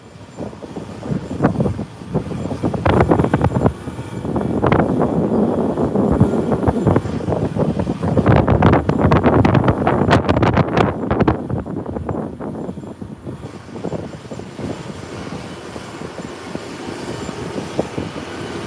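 A Boeing 777 in a flight simulator game roars with a loud, sustained engine rumble that swells in the middle and eases off toward the end.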